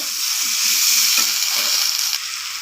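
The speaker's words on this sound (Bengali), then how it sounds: "আদা বাটাটা দিয়ে আমি আবারও মশলার সাথে আবারও কষিয়ে নেব" Soybean masala with ginger paste fries in a pan, making a strong, steady close-up sizzle with a few soft stirring bumps and no speech.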